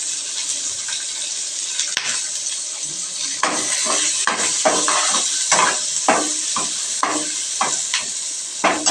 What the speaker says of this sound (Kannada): ಬೆಳ್ಳುಳ್ಳಿಯನ್ನು ಕೂಡ ಹಾಕು ಅದಕ್ಕೆ